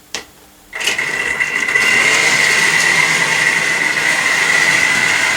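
An OO gauge class 08 model locomotive with uncleaned wheels starts up on the track, a brief click followed by a steady, close motor whine with a humming buzz that holds continuously.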